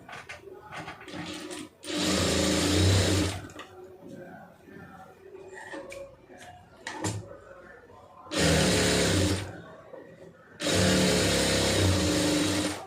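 A sewing machine stitches a folded puff sleeve edge in three loud, steady bursts of whirring needle action, close by, with someone talking in the pauses between runs.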